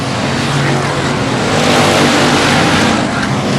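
Dirt track race cars roar down the back straightaway at Boothill Speedway, a loud, continuous, close engine blare with no break in the sound.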